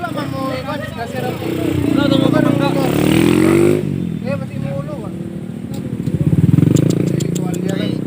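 A motorcycle engine revs on a road, swelling and falling in pitch over several seconds amid street noise while people talk loudly nearby.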